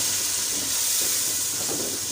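Spices roasting in a hot pan while being cooked for pota kaleji, giving a steady, even sizzle and hiss with no talk.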